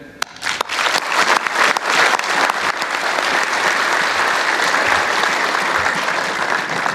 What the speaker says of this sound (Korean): 고된 교육과정을 훌륭하게 마친 여러분 모두에게 격려의 박수를 보냅니다.